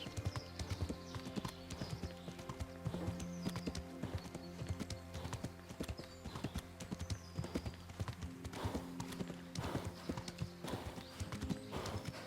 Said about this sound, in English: You can hear the horse breathe more heavily as he gets more tired.